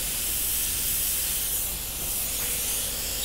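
An airbrush sprays paint onto bat artwork in a steady, soft, close hiss that runs unbroken for a few seconds with no voices.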